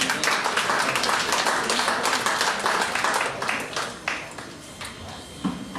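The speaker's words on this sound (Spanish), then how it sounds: "Dale un aplauso al Rey de Gloria." A church congregation applauds during a sermon, lively clapping with sharp individual claps that thins out and tapers off toward the end.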